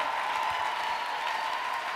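A church congregation applauds during a mass prayer service, a steady dense wash of clapping with a sustained tone running underneath, moderately loud and unbroken.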